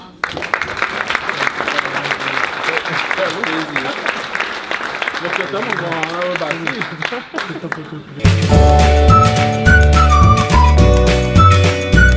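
Audience applause at a company's end-of-year dinner, a loud sustained clatter of clapping from the room that gives way abruptly to music partway through.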